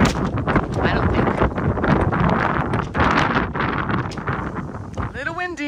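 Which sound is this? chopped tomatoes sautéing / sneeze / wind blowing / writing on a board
wind blowing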